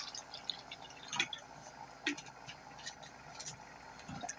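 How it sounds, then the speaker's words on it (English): Water trickles and drips into the tray of a stone-cutting saw, with faint irregular splashes and a few brighter drips over a quiet background, close by and soft. "A little bit of water in there."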